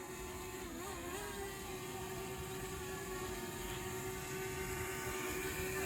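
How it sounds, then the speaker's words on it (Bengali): A camera drone climbs from a riverside spot at Mirzapur, Chandpur in late afternoon, its steady motor whine holding close and loud over a broad airy rumble for the whole stretch. "তো আমাদের ড্রোন চললো উপরে"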